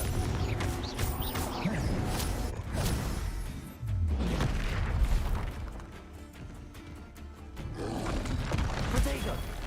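Fiery Confringo spell blasts in a Hogwarts Legacy battle: booming bursts and roaring rumble fill the scene continuously, with a voice calling out over the din.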